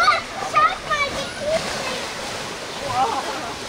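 Water splashing and rushing as an elephant bathes in its pool at Augsburg Zoo, a steady wash of noise with a few louder splashes, while people talk nearby.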